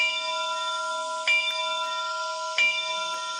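Bell option 2 from the Bachmann EZ App sound system for an ALCo 2-6-0 Mogul model locomotive: a synthetic ringing bell struck about three times at an even, slow pace, each strike sustaining a tonal ring over a faint hiss.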